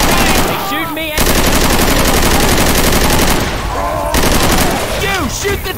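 Loud, sustained automatic gunfire in Left 4 Dead 2 as players shoot at the Tank, with dense overlapping bursts that run almost without pause and ease off only briefly near the start and end.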